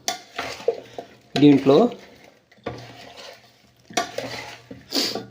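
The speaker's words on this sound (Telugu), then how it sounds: "నేను ఈ గంటతో కలుపుకుంటున్నాను" Avakaya mango pickle being stirred with a ladle in a pot, with scraping, clinking strokes in short bursts, near and moderately loud, mixed with someone speaking in between.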